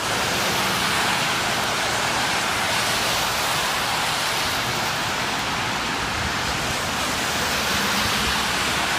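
Rainwater drains along a sidewalk on a walkway across Emory's campus, a steady broadband rushing wash close by and unchanging throughout, with no voices.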